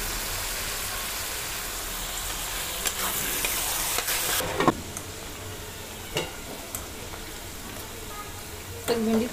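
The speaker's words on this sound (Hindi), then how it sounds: "बिना ढके ही मैं भून लूँ इसको यूज करके।" Okra fries in oil in an uncovered pan with a continuous dense sizzle, the sound briefly louder early on, with occasional utensil scrapes and clicks from stirring throughout.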